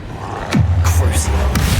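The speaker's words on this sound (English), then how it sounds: "Confringo!" A Confringo spell is cast in Hogwarts Legacy, a sudden whoosh and a low rumbling boom that sustains briefly, with a shouted voice over it.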